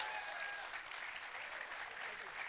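A conference audience applauds a speaker coming onto the stage at a product launch event, dense steady clapping with a faint voice briefly audible underneath.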